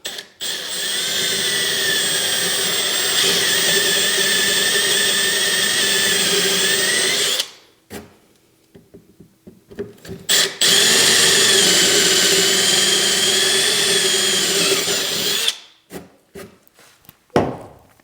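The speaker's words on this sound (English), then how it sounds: "we're going to drill some holes in these." A power drill whirs loudly through two long bursts of drilling holes for a 3D printer enclosure, separated by a pause with clicks and handling noise, then stops.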